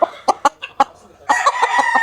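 Spartan Black Cross game fowl stags at a game farm give a series of short, sharp clucks and calls, then break into overlapping crowing, close and fairly loud with no talk.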